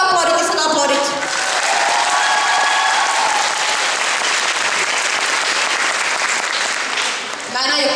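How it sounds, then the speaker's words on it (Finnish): Loud, sustained audience applause from a cosplay contest crowd at a convention, steady clapping filling the space for several seconds before tapering near the end. "Isot aplodit, isot aplodit"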